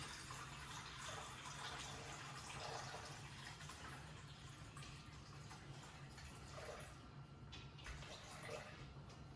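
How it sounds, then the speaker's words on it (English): Lukewarm water running steadily from a tap or jug onto a kitchen scale while weighing it out for pizza dough, a continuous close, moderately quiet trickling and splashing with no talk. "I've got some lukewarm water, and I'm going to put in 372 grams."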